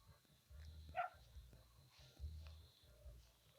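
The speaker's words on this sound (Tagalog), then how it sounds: "Kahol ng kahol yung aso." Faint dog barks repeat at a steady pace against a quiet outdoor background, sounding distant and low.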